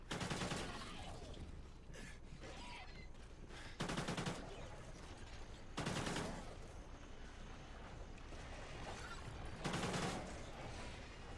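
Gunfire in the video game Call of Duty Ghosts Extinction: steady rattling automatic fire throughout, with louder bursts punching through about every two seconds, with no voices.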